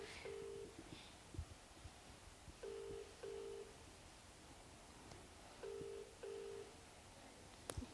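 An outgoing phone call that goes unanswered, with short electronic ringback tones sounding in pairs, repeating at regular intervals over faint background noise.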